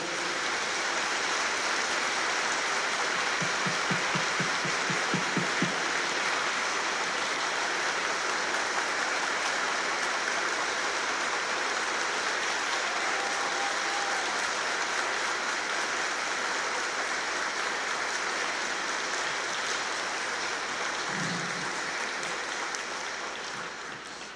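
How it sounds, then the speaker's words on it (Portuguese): An audience applauds a philharmonic orchestra at an Easter mission event, a long steady wash of clapping at even volume that continues to the end, with a brief low voice near the close. "Um salve de palmas para a nossa orquestra"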